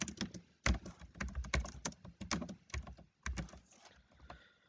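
Fingers type C code on a computer keyboard, with quick close bursts of clicky keystrokes and short pauses between words.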